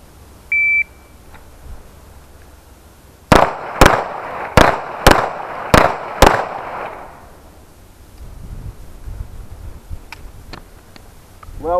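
A tactical pistol shooting exam begins with a short electronic timer beep, followed by six sharp, loud pistol shots in quick, evenly spaced succession that ring out briefly before quieter shuffling and handling sounds.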